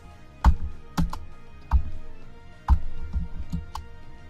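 Computer keyboard keys being struck in short irregular bursts, about half a dozen distinct clacks with small pauses between them, close and fairly crisp, with no talking over them.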